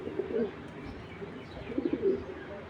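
Tiger Grizzle pigeons, a cock among them, coo in low, throaty bursts near the start and again toward the end, with faint background noise between.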